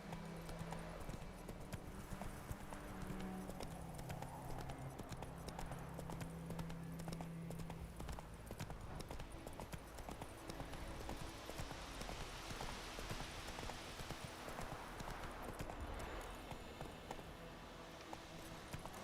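A horse gallops in the video game The Witcher 3, a quiet, steady rhythmic clip-clop of hooves that continues throughout with no clear speech.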